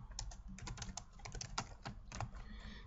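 Rapid, uneven clicks of typing on a computer keyboard, close up and steady for a few seconds with no talking over it.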